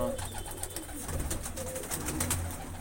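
Pigeons in a newly cleaned coop give low, repeated cooing calls close by, over a hum of background noise.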